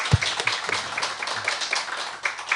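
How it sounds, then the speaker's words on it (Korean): Church congregation clapping briefly to welcome a first-time visitor; steady, moderately loud clapping throughout a short burst, with a few distinct sharper claps. "우리 잠깐 일어서 주시면 우리 뜨거운 박수로 환영하겠습니다"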